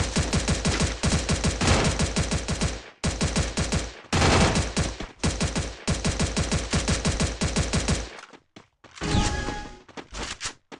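Loud bursts of rapid automatic gunfire in a Counter-Strike ranked match, several fast volleys separated by short pauses, followed by a few scattered shots and clatter.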